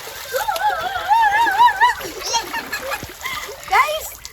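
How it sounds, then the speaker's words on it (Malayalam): Water splashes and sloshes as someone wades through a flowing stream while bathing, with children's voices chattering loudly over the intermittent splashing. "വെള്ളത്തിൽ നടന്നു വരുന്നു"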